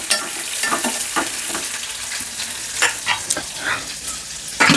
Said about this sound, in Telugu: ఆవాలు చిటిపట్లాడిన తర్వాత శనగపప్పు, మినప్పప్పు, అవి కొంచెం అలా ఎగితే చాలు.